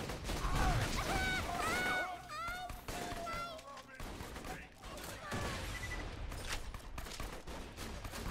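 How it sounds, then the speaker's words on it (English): Rapid SMG fire resembling an Uzi in the video game Borderlands 2, a dense stream of gunfire bursts heard near and loud with game music and effects mixed in. "It's an SMG. It's like an Uzi."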